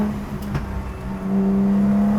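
A Mercedes M276 engine in an HWA EVO restomod hums steadily up close, then settles into a louder, sustained drone as revs build and hold.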